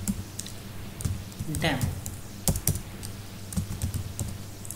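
Computer keyboard typing while entering a Java project name, scattered close key clicks in short runs under intermittent speech.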